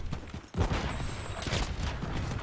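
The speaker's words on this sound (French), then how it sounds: "Je me fais tirer dessus." Rapid bursts of gunfire crackle through a Modern Warfare 3 multiplayer match on the Rust map, dense overlapping shots at close to middle distance with a sharp burst at the start and end.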